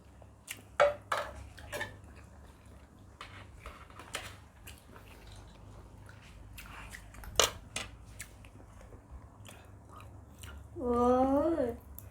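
Someone eats a meal of rice with stir-fried stink beans and shrimp, with close chewing, clicks of cutlery on a dish, and brief bites spread across the clip, ending with a short burst of voiced sound.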